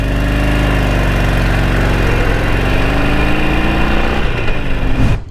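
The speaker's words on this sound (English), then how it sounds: "you need to really like rev the bike or choke it in order to maintain the idle." A Harley-Davidson Iron Sportster 883 idles with a loud, steady, close-up rumble. The bike is hard to start and needs revving or choke to hold its idle, and the engine cuts off abruptly at the end.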